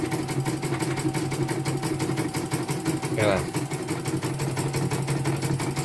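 A CNY embroidery machine runs under test at a service centre in Banyumas, Central Java, giving a steady mechanical hum and rapid repetitive stitching rattle throughout, with someone talking over it.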